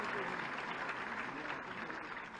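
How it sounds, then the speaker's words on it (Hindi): Applause from an audience at an awards ceremony in Lucknow honouring women for outstanding work, a faint, steady wash of clapping that runs evenly throughout. "एक बार तालियों के साथ पुनः इन सबका अभिनंदन."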